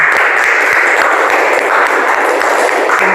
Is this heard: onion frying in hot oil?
no